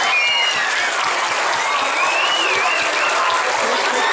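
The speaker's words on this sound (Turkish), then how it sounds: "Bir de onlara kocaman alkış gönderelim mi?" Loud, sustained applause from a large crowd at a 30 August Victory Day centenary celebration in Başakşehir, steady dense clapping with some cheering whistles throughout.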